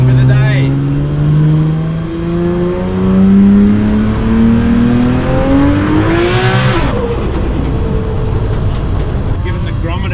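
An 1100 horsepower Barra-powered Bedford roars as it accelerates, engine pitch climbing steadily through long pulls before a sharp rising burst and a fade, loud and close, with voices talking over it.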